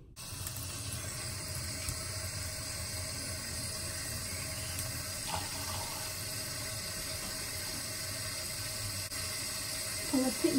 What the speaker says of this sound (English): Put warm water on my face and then rinse it with warm water too.